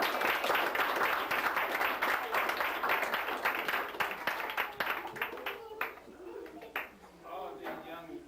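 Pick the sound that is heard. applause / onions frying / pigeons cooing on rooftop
applause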